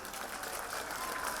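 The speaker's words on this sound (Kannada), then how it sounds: "ಜೋರಾಗಿ ಚಪ್ಪಾಳೆ." Loud, dense applause from an audience at a Ganeshotsava stage event, steady clapping filling the whole moment without a break, close and continuous.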